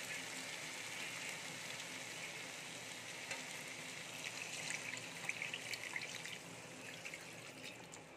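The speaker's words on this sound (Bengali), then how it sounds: "এবারে জল দিয়ে দেব।" Water poured into a pan of spiced curry, a soft continuous hiss and trickle that rises and bubbles slightly toward the end, fairly quiet and without talk.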